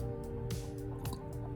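An Arteza water brush pen is squeezed, pushing water out through the bristles in a few soft squishing, dripping spurts under a steady low hum.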